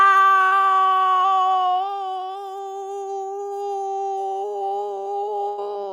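A voice imitating a cat's meow, one long drawn-out tonal cry that starts loud and steady, then softens and wavers slightly toward the end, heard alone without other talk.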